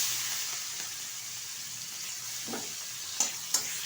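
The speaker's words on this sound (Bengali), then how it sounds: "চিংড়ি মাছটা ভালোভাবে ভেজে নেব" Prawns frying in hot oil in a wok with turmeric and black cumin, a soft even sizzle close by, broken by a few stirring scrapes and two sharp clinks near the end.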